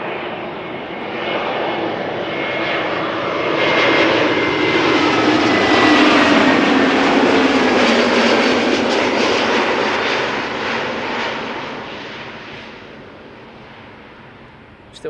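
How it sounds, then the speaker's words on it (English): Vueling Airbus A320neo arriving from Barcelona at Schiphol: a loud jet roar with whining engine tones that builds, peaks as the plane passes close, then recedes and fades toward the end. "Next up, Vueling A320neo, arriving from Barcelona."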